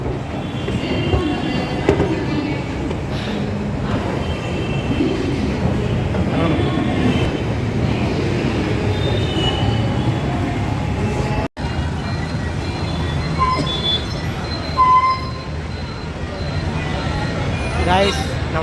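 A Chennai metro train carries riders from Guindy station, the carriage filled with a steady rolling rumble, wheel clatter and occasional squeals, while passengers talk over the noise.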